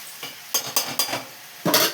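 A generous batch of onions frying in a pan gets stirred with a utensil, giving four or five quick scraping strokes over a soft, steady sizzle, close by and without talk.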